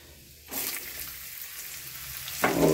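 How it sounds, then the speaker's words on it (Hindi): Onions tipped into a hot pan with cumin seeds start sizzling after a short quiet pause, then keep up a steady close crackle with a louder burst of frying near the end. "प्याज डाल देते हैं,"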